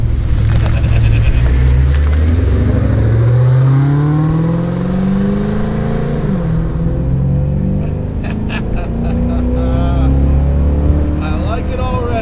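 A track-prepped Ford Crown Victoria with a seam-welded body and frame revs hard while driving in second gear, its loud engine drone rising and falling close up, with people talking over it inside the car.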